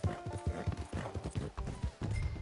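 Horse hooves clip-clopping in a steady rhythm while riding in the video game Red Dead Redemption, close and clear, with a brief whinny and faint game sounds mixed in.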